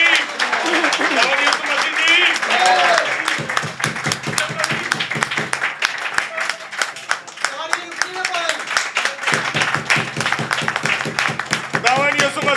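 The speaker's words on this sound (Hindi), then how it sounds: "तालियां" Audience at a dinner gathering in Lahore applauding for a party founder and chairman, a long, loud, dense burst of many clapping hands with a few cheering voices mixed in, swelling and sustained throughout.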